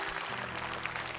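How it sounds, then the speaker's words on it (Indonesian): Studio audience applause for the judging panel on a televised masked singing competition, a short steady burst of dense clapping with a low hum underneath. "tepuk tangan dulu buat juri panelis"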